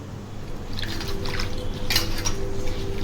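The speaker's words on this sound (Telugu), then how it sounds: "ఆకులన్నిటిని కట్ చేసుకొని ఈ విధంగా నీళ్ళల్లో కడిగి" Cut colocasia leaves are washed in water, with soft sloshing, drips and trickles close by and a few light splashes over a steady wet background, no voices.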